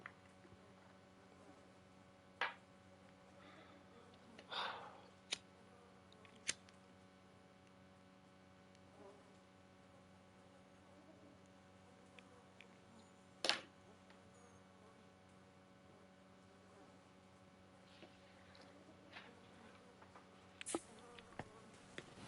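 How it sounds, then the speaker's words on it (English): Flies buzz in the video game Silent Hill: The Short Message, a faint, steady drone that carries throughout, broken by a few scattered clicks and ticks, with no one talking. "Listen to the flies buzz for a moment."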